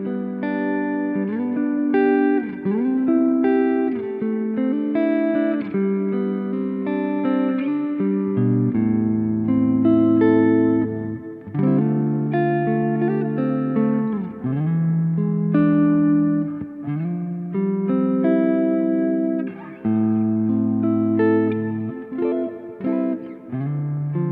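An electric guitar with single-coil pickups plays a clean melodic passage of chords and single notes, with some reverb, no voices.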